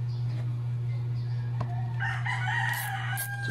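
A neighbour's rooster crows repeatedly in the background, joined by clucking chickens, over a loud steady electrical hum.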